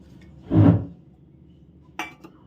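Milk powder and sugar stirred together in a bowl, giving one soft scraping swish followed by a brief clink of a utensil against the bowl, close and quiet.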